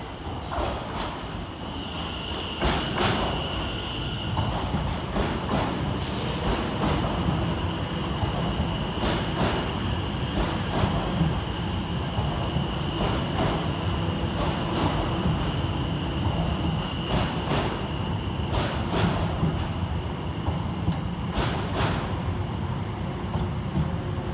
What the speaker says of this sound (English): Arriving to terminate with a Greater Anglia service off of Colchester Town is 720-518